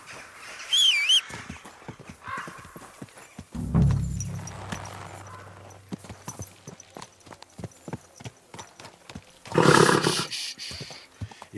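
A horse's hooves clip-clop in a steady, fairly close walking rhythm, with a high whinny near the start, a low rumbling snort or roar partway through, and a loud neighing burst toward the end.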